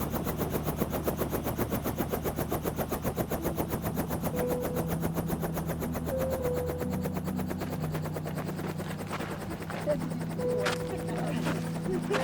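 A helicopter hovering close by during rhino dehorning in the bush, its rotor thudding in a fast, loud, steady rhythm throughout, with a few faint voices beneath.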